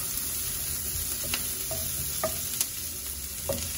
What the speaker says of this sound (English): Here we will cook the onion to a little bit softer.